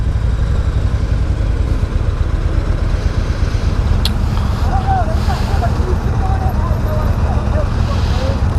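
A 2018 Yamaha Star Eluder cruiser motorcycle engine rumbles steadily while riding, a loud, continuous low drone with wind noise and gear shifts, heard close without talk.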